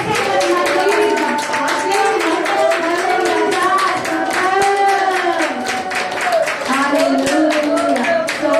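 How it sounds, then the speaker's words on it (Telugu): A church congregation at a Sunday service claps their hands in praise in a steady, even rhythm throughout, under a voice that speaks and sings over it. "అందరూ చప్పట్లు కొట్టి మన యేసయ్యని మహిమపరుద్దాం"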